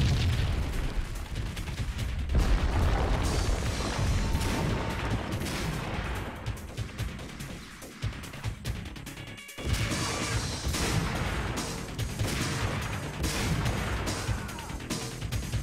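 Gunfire rings out in the shooter game Max Payne, loud repeated shots and crashing impacts in dense bursts, with a brief lull before the shooting resumes.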